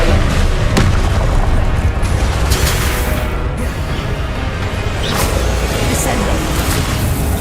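Incendio fire spell cast in Hogwarts Legacy, a loud booming blast of fiery noise that fills the whole stretch, with denser bursts and crackles layered over a continuous roar.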